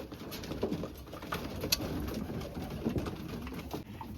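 Racing pigeons coo softly in a loft, low murmuring calls repeating through a steady background of bird noise.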